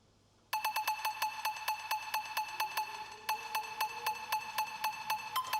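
A bright, plucky synth tone with a ping-pong character repeats in a quick, steady pulse of short bouncing notes, starting abruptly after a moment of quiet and running alone without voices.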